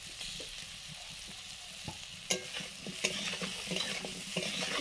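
Vegetables seasoned with turmeric and salt fry in a pan as a spoon stirs them. A soft continuous sizzle runs under irregular scraping clinks that grow busier toward the end, with no talking.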